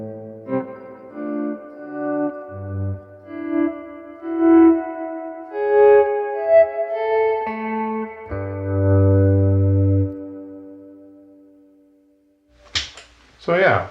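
Electric guitar played through a Proxima A amplifier with stacked delays and reverb gives sustained, echoing notes and swelling chords with a distorted, washy tail, ending in a few sharp percussive clicks.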